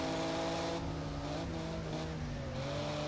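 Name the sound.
Nissan Skyline race car engine driving away on track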